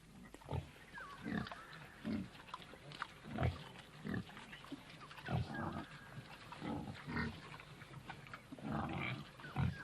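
Pigs in a village in the Sepik region of Papua New Guinea, repeated close grunts and squeals in irregular bursts over a noisy outdoor background, with no talking.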